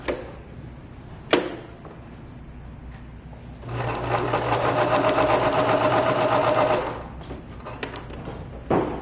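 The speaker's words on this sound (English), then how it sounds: "you put the foot back down and then keep sewing" A sewing machine stitches fabric for a handwarmer in one sustained run of several seconds, loud and close, with a few sharp clicks and handling knocks before and after.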